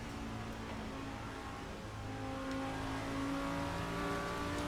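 Racing car engine in a sim racing game played on a new rig, a steady droning tone that climbs slightly in pitch with revs, moderately quiet and continuous without talk.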